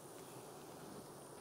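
Honeybees inside a hive box hum in a dense, steady buzz, faint and continuous with no other sounds.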